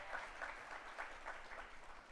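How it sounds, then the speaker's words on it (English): Applause for a university program lead at a college graduation ceremony, a fairly faint, steady patter of clapping from the audience lasting a couple of seconds. "extra applause for Alison"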